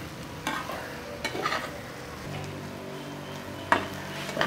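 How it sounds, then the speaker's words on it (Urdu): Mutton brain frying in a pan for a masala fry, stirred gently with a spoon: a steady close sizzle with soft scraping strokes and a few sharper clinks of the spoon against the pan, no talking. "چمچ سے ایسے ہلکا ہلکا کٹ لگاتے رہیں گے، نیچے نہیں لگنے دینا ہے، بس آہستہ آہستہ چمچ کو ہلاتے رہنا ہے۔"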